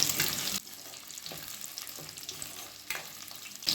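Shallots sautéing in a pan until browned, a soft sizzle with stirring scrapes, louder bursts at the start and near the end, no speech.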